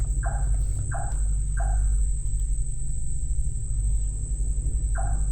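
A bird calls in short repeated two-note bursts, three in quick succession then one more, over a steady night hum and insect drone at a flooded campsite.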